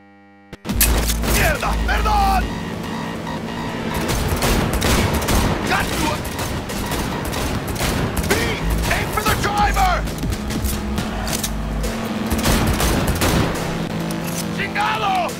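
Rapid bursts of gunfire during a car chase in the video game Cyberpunk 2077, dense volleys over engine noise and music, with characters shouting between shots.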